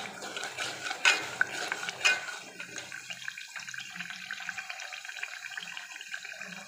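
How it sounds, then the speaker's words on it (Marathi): Water pours and splashes into a cooking pot for a vegetable dish, with a couple of louder clanks early on, then a steady soft trickle and stirring noise close by. "अशा प्रकारे हे पाणी टाकणार आहे"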